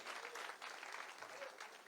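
A crowd applauds students honoured from a school in Bijapur. The clapping is a fairly faint, continuous wash of many hands, steady and unbroken from start to finish.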